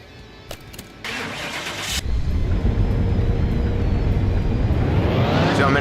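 Car engine on a dyno in Car Mechanic Simulator 2021, with some clicks, then a start that settles into a loud, steady run building toward a rising rev near the end.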